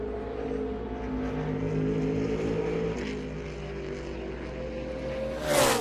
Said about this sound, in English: See a few more cars exiting pit road here to get in one more lap and one more try.